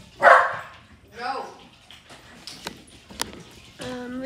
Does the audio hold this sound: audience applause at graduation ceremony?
no